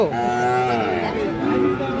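A Friesian bull calf at a cattle market lets out one loud, close, drawn-out moo that carries through the whole moment, with little else audible.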